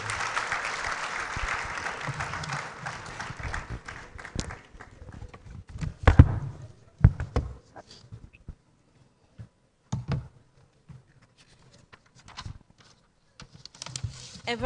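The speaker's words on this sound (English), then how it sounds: "Let's clap for her" Audience applause for the SEGRAD director at a university freshers orientation, a broad clapping wash that fades after a few seconds into scattered claps, thumps and rustling.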